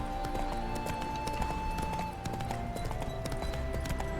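Roach, a horse in The Witcher video game, clip-clops along steadily with repeated hoof strikes over a busy layer of ambient game music and sound effects.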